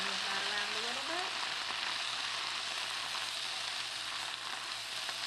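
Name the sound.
Swiss chard cooking in a pan with apple cider vinegar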